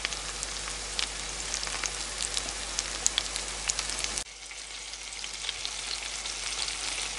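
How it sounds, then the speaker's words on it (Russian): Homemade meat cutlets sizzle in a frying pan with a steady crackle and scattered sharp pops, the sizzle dropping to a softer level partway through, with no talking. "Наши котлетки шкварчат."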